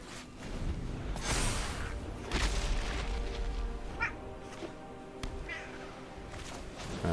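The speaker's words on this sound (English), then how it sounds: "The cat is hungry and she's complaining." A hungry cat meows repeatedly nearby, drawn-out complaining cries rising and falling over a steady background of game sounds, with a few short gaps between calls.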